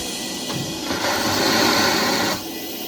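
A vacuum machine for plastic vacuum forming runs with a mechanical whirring drone that swells louder midway, holds for over a second, then drops back to a lower hum.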